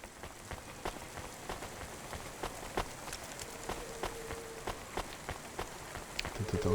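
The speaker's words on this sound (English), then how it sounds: "Ouais, parce que là, il fait que pleuvoir." Steady rain pours in a rainy city of the game Cloudpunk, a dense continuous patter with scattered sharper drops landing on surfaces, fairly quiet and without talk.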